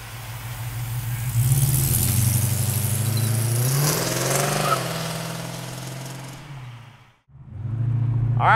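A 1968 Chevrolet Camaro with an LS7 engine and Corvette suspension revs loudly and steadily up close, its deep rumble briefly cutting out near the end before returning.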